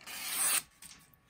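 A Yaxel Kiritsuke knife in SG2 steel with a polished Damascus finish makes a single push cut, a short, close, rasping slice lasting about half a second, followed by a couple of faint soft taps.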